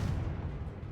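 Confringo explosive spell in Hogwarts Legacy, a single dull, rumbling blast that sustains for about a second at moderate loudness, with no talk.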